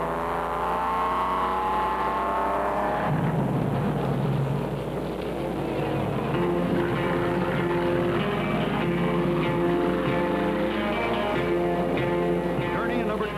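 Racing stock cars, a number 28 Ford and a number 22 Pontiac, roar together on a track in 1963 with a steady, dense engine drone that swells as one car passes the other, heard under narration.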